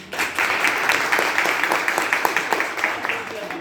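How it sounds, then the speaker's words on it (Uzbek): An audience claps for the participating teams, a crowd of irregular hand claps with distinct sharp hits over a steady patter, fairly close, with some voices mixed in. "Ularga alohida qarsak chalamiz."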